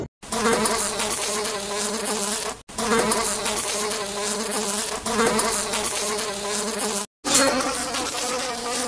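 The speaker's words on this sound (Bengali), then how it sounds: "মাছিগুলো খুব জ্বালাতন করছে" Flies buzz loudly and close in a dense, continuous drone with a wavering pitch, broken by a few brief sharp gaps, with no one talking over it.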